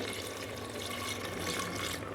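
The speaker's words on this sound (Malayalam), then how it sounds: "കുറച്ച് വെള്ളം ഒഴിക്കാവേ" Water streams steadily into a pot of chicken for Bangalore biryani, a continuous close splashing pour with no voices.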